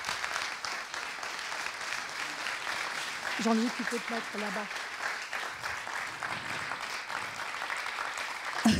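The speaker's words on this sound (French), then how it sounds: "sous vos applaudissements nourris" Audience applause greets the explorer Jean-Louis Etienne: steady, moderately distant clapping from a crowd runs throughout while someone speaks briefly over it.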